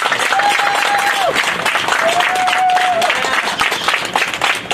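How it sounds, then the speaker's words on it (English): A crowd at an East Orange street renaming ceremony gives the fire department a loud, steady round of applause, with sustained clapping and a crowd murmur throughout and a faint tone sounding twice over it. "Give our fire department another round of applause"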